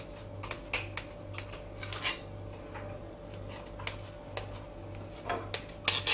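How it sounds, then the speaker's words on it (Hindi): Light clicks and taps of a knife cutting rava dhokla on a plate, scattered irregularly over a steady low hum, with a sharper clatter near the end. "अब हम ढोकले को काटेंगे।"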